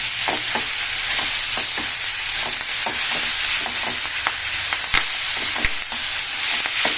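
Tomato chutney with a few pieces of tamarind simmers and sizzles steadily in a pan, with scattered sharp clicks and scrapes from stirring over the constant close frying hiss.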